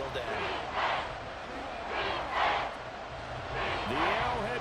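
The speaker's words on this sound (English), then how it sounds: "The Arrowhead crowd in full roar." The Arrowhead Stadium crowd in a football video game roars in a continuous wall of noise that swells and ebbs in loud waves, with commentary voices faintly underneath.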